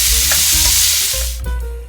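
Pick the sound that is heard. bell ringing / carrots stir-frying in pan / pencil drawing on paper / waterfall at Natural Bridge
carrots stir-frying in pan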